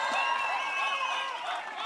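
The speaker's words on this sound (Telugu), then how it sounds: "చప్పట్ల ద్వారా ఘనమైన స్వాగతం చప్పట్ల ద్వారా తెలియజేస్తూ" Applause from a political rally audience greeting Chandrababu Naidu, a dense, steady wash of clapping from a large crowd, fairly loud and continuous throughout the short stretch.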